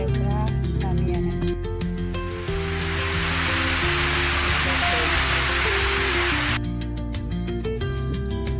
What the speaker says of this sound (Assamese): ওপৰৰ বৰষুণ দিলে পূৰা নামি আহে